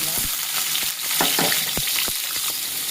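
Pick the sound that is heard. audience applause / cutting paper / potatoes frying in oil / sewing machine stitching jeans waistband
potatoes frying in oil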